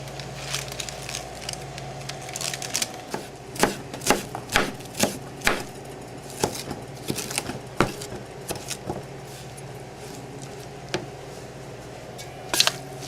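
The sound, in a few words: knife chopping spinach on a cutting board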